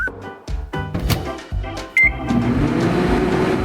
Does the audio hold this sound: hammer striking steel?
no